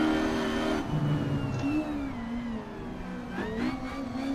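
Ford Escort Mk1 engine in Assetto Corsa revving and easing on and off the throttle, pitch climbing and dipping through third gear, loud and close with a steady whine, no talking.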